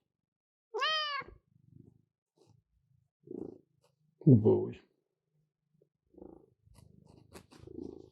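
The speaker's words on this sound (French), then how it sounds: "Est-ce qu'on entend bien le ronronnement du matou?" A tomcat purrs as a soft low rumble, stroked by hand, with a clear meow near the start and short bursts of French speech in between.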